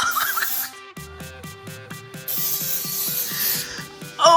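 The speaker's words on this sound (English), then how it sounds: "now we're gonna go with our black spray paint" Hissing bursts of edible black spray paint from an aerosol can, close by, pulsing rhythmically over a faint repeating musical tone in the background.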